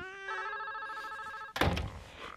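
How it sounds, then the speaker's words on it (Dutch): Telephone ringing indoors with a steady electronic trill for about a second and a half, cut off by a sharp clatter as the receiver is picked up; no talking. "Dan giet de telefoon."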